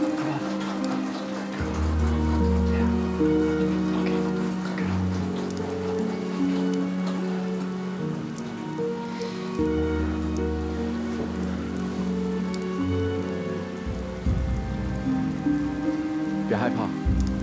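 Heavy rain falls steadily in a forest setting, a dense continuous hiss of drops on surfaces at close range, with low background sounds mixed in and a brief voice near the end.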